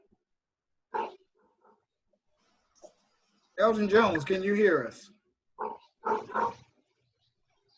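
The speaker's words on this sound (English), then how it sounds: "That's my neighbor's dog." A neighbor's dog barks in loud, short bursts, one long volley and several later barks, over a remote call on which a person speaks.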